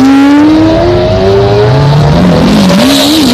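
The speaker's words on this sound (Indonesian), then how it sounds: "di sini juga ada mobil balap Lamborghini warna merah" A loud red Lamborghini race car engine roars continuously nearby, its pitch rising and shifting as it revs, with a faint tire squeal.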